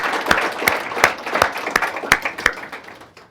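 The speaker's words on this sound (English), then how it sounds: "Can we give Dan a great big round of applause?" A small audience claps for a guest at a business talk event, the applause loud and close with distinct, fairly sparse hand claps landing in a loose rhythm.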